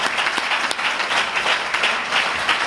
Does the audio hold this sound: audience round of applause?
yes